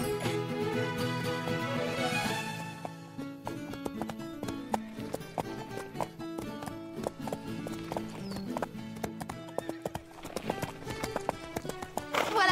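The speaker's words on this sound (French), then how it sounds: "Nous voulons juste te voir monter à cheval." Rhythmic clip-clop of horse hooves, crisp and close, with a whinny near the start and musical tones underneath.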